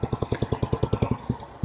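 A 1964 Velocette Venom Clubman motorcycle with a 500cc air-cooled overhead-valve single-cylinder engine thumps along at low revs. Its strong, even pulses are loud and close, with a slight stumble near the end.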